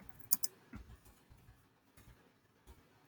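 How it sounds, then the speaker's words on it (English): Soft, irregular keyboard clicks tap away in a quiet room, with a couple of sharper clicks early on. "You have to excuse my bad typing."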